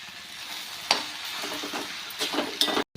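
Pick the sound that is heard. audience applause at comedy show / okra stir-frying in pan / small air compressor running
okra stir-frying in pan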